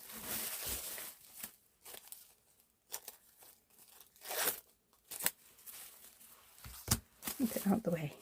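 Plastic with gold on it is torn and crinkled off by hand in short, uneven bursts of tearing and crackling, close up, with quiet pauses and a voice speaking in between.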